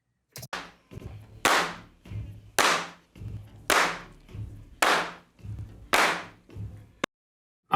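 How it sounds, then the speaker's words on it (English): Handclap sound from a recording: sharp, bright claps repeating at an even pace of roughly one per second, loud and close, each with a short decaying tail. "That clap sound though, man."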